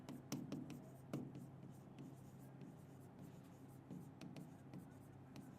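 Notes written by hand during a physics lesson on acceleration, probably with a pen or marker: faint scratchy strokes and taps in an uneven rhythm over a low background hum, quiet and close, with no clear speech.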